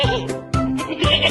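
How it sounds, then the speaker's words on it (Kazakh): A goat bleats in short wavering calls, three quick cries in a row, heard close over faint background music in a children's animal quiz. "Дұрыс, бұл ешкі."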